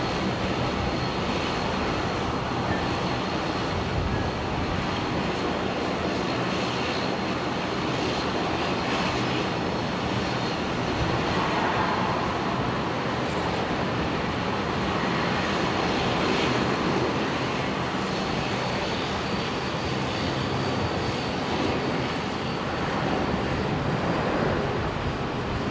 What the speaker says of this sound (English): In the special One World livery. 330-200 coming in from Auckland.